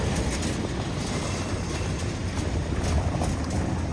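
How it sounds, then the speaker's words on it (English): A Lisbon tram passes along an Alfama street, a loud, continuous rumble of wheels on rails with faint clattering, heard close by. "There's another tram right here"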